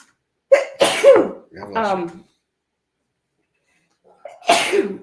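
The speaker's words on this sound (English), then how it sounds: "I'm going to sneeze again." A person sneezes sharply, a quick gasp then a burst, followed by a pause and another breathy sneeze-like exhale, close to the listener.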